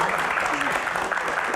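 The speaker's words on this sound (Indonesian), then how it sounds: "bolehkah minta tepuk tangannya untuk yang belum menikah?" Audience at an Indonesian evening show clapping steadily throughout, a dense continuous wash of applause with a faint voice briefly over it.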